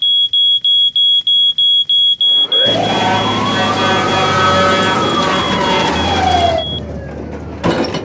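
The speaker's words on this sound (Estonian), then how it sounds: "suitsuandur peab olema igas kodus" A smoke alarm beeps in a rapid series of sharp, high electronic chirps, then gives way to a loud, rushing noise that fades before a brief final burst.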